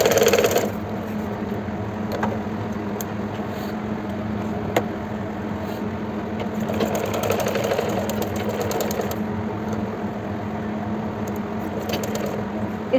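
A sewing machine runs steadily, stitching along the drawn neck shape of a kurti, a fast continuous mechanical whir with faint clicks and taps, close and moderately quiet.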